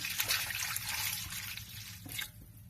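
Water is poured from a glass into a pot of mutton and potato curry cooking village style, a steady splashing pour for about two seconds that then stops.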